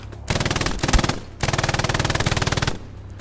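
An MG42 machine gun in the WWII shooter game Hell Let Loose fires two loud, close, rapid bursts, a short one and then a longer sustained one, with a brief pause between them.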